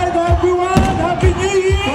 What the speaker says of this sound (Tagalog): ang makulay at maingay na fireworks display